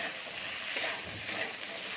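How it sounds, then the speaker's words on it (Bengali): Sliced okra (bhindi) fries with a little salt in a pan, making a dense, even, close sizzle throughout with light stirring scrapes. "নুন দিয়ে আমি ভেজে নেবো এইগুলোকে।"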